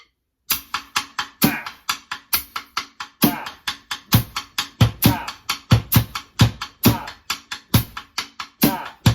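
A voice rapidly repeats a short percussive "bah" sound, imitating snare drum hits in a steady, rhythmic pattern.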